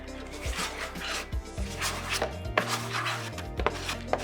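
Excess chocolate is scraped off a chocolate mold with a tool, making short, close scraping strokes and light knocks in an uneven rhythm against a humming background.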